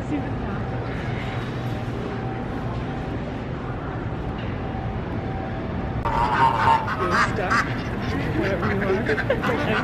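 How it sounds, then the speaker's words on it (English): Ducks quack and geese honk in a pen at the Royal Agricultural Winter Fair, with crowd murmur and people talking nearby; the calls grow louder and more frequent in the second half. "They're ducks. They're oh wait. These are geese. Those are ducks."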